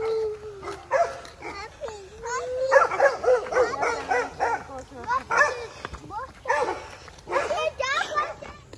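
A dog whimpers, yips and barks in quick, uneven bursts outdoors after a bear encounter, close and fairly loud, with excited human voices mixed in.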